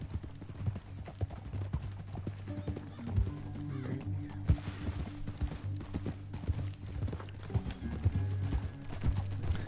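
Horse hooves clip-clop steadily through a Red Dead Redemption 2 ride, a close, continuous galloping rhythm layered over low in-game ambience with no voices.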